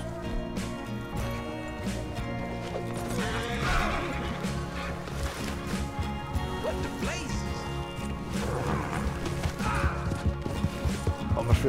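A horse in a video game whinnies loudly over a clatter of hooves, with music and scattered game sounds in the mix.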